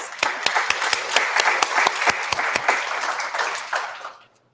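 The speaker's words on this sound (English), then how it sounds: "give them a round of applause" Applause from a small audience at an evening event, with sharp, distinct nearby claps over a fuller clapping wash that fades out abruptly in the last half second.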